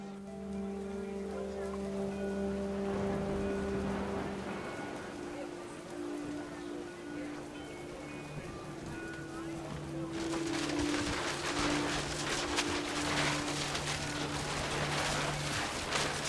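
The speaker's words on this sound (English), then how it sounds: "The rain came down in buckets then" Heavy rain and wind in the game What Remains of Edith Finch: a steady wet hiss that swells into a loud downpour partway through, layered under sustained musical tones and a narrating voice.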